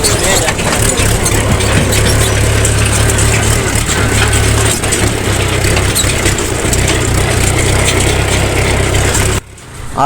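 A tractor engine runs steadily with a deep low rumble and rattling, close by, cutting off abruptly near the end.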